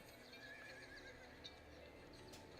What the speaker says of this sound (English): There are horses around the city, okay?